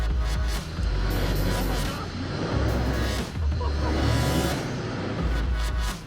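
An off-road vehicle's engine drones steadily on a trail while its wheels spin, with people talking over the low, continuous rumble.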